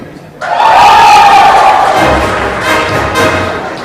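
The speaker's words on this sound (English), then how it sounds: "Looks like the team decided to paint the town red with that really loud cheer" An audience at a digital industry awards ceremony bursts into loud, sustained cheering and whooping as a bronze winner is named, with a sharp onset, then a roar that holds for several seconds before settling.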